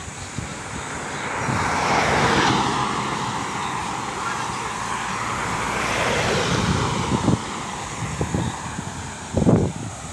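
Fast riders on bicycles rush past on a road as broad swelling whooshes, two passes building and fading, followed by a few short knocks and faint voices near the end.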